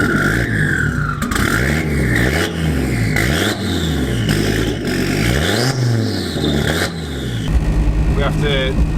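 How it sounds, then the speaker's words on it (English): An Audi Quattro rally car, road legal with a sequential gearbox, fires up and revs loudly and close, its engine note rising and falling in repeated blips, with people talking over it. "Fire up the Quattro."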